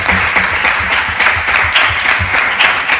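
Dense applause fills a town council plenary session in Palma del Río, many hands clapping loudly and steadily without a break, with no voices rising above it.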